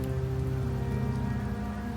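Steady rain falls in a video game, a dense, even hiss of drops over a low tonal hum, continuous and close, with no voices.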